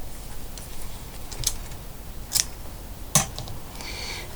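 Scissors snipping a small cord, three sharp, close clicks spaced about a second apart over a quiet background.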